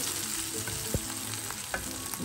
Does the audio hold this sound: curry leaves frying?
yes